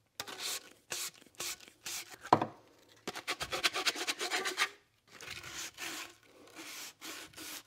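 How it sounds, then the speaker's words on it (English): Sandpaper rubbed by hand over the cut edges of a plastic tube to clear burrs, heard as short raspy scraping strokes in uneven bursts with brief pauses, close and fairly quiet. "That's all I need the sandpaper for. So that, just making sure that it's nice and smooth, no burrs."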